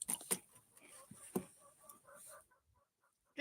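A hen in an outdoor off-grid farmyard gives a few sharp calls and then a run of soft, close clucks that trail off into quiet.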